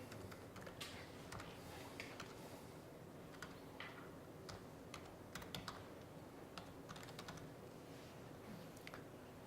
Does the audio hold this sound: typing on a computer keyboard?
yes